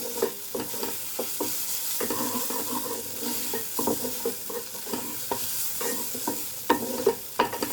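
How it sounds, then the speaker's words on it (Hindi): Turmeric and coriander powder cook in a hot pan at home, a soft continuous sizzle broken by scraping stirs and clinks of a spoon against the pan, fairly quiet and close. "हल्दी, धनिया पाउडर, एंड हम इन मसालों को थोड़ा सा पका लेंगे"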